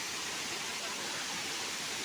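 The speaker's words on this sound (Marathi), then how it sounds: "असे छोटे छोटे धबधबे ओढे नाले तयार होतात आणि ते खाली वाहत जातं" Small waterfalls and streams run down a forested hillside near Thane, a dense, steady rushing roar of water with no breaks. A voice may be faintly present underneath.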